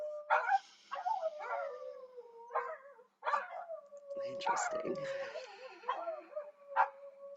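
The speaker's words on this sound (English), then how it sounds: "I'm sure you can hear the dogs barking near me" Several dogs howl and yip in bursts nearby, with long wavering cries and a few sharp barks, and a person briefly speaks over them.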